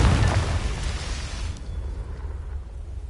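A Confringo spell explosion in the Hogwarts Legacy video game erupts in a loud, close booming burst that fades into a low rumbling tail.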